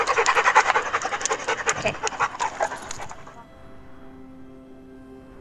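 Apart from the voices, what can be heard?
dogs panting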